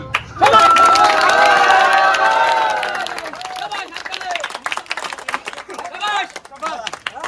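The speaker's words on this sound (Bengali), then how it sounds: "সবাই হাত তালি, হাত তালি।" A crowd cheers and shouts loudly as a tire-removal contest winner is honoured, with excited voices sustained at first, then settling into scattered claps, calls and chatter toward the end.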